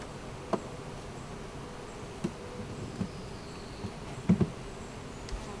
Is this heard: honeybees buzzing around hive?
yes